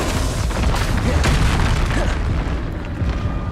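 A Confringo spell explosion in the Hogwarts Legacy video game: a loud, dense boom that fills the whole stretch with rumbling blast noise and no clear break.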